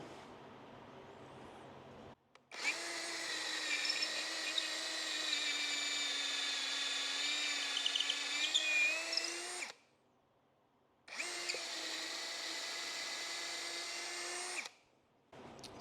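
A Cerycose cordless drill, DeWalt 20V battery compatible, whines steadily at high speed in two long bursts, the first about seven seconds and the second about three and a half, separated by a short pause, loud and close with no talking.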